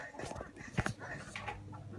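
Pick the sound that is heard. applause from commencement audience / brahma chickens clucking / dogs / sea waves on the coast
dogs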